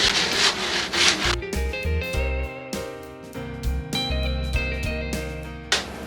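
80 grit sandpaper scrubs back and forth over a drywall ceiling patch in repeated rasping strokes, loud and close, with a muddled tonal hum beneath and no talking.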